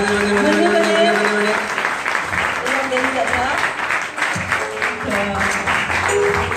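Audience applause at a startup pitch session, a steady dense patter of many hands that carries through the whole stretch, with voices speaking over it at times.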